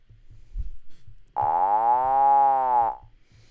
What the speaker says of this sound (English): So I'm going to add a saturator.